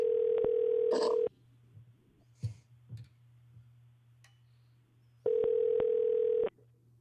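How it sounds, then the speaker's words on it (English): Telephone dial tone sounds while a caller is dialed into a city council meeting: a steady tone for over a second, then low hum with a few clicks, then the tone returns near the end. "are we dialing her in? We're dialing her in."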